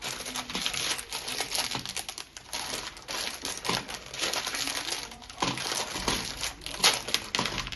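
A plastic parts bag from a Lego Technic set is torn and crinkled open up close, with continuous rustling, crackling and scattered sharp crackles over several seconds.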